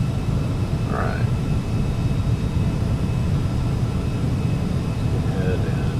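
Simulated Falcon 50EX business jet in the Prepar3D flight simulator, a steady broadband engine roar holding constant throughout with faint tonal whine above.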